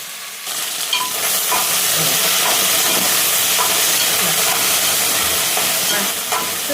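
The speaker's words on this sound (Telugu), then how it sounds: "పెద్ద మంట మీద మంచిగా ఫ్రై చేసుకోవాలి" Cut okra pieces frying in a pan over a high flame give a loud, steady hiss and sizzle that runs nearly the whole time, with faint stirring beneath and no speech.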